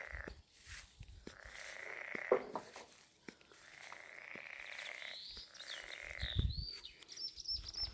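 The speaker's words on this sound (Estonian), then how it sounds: "Konna kontsert hakkas pihta jälle." Frogs croaking in a chorus outdoors, with repeated trilling calls rising and falling across the whole stretch at moderate volume, joined by a few bird chirps and light background rustle.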